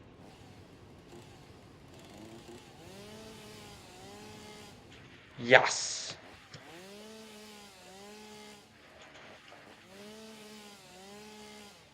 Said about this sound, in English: Chainsaw. Let's do it.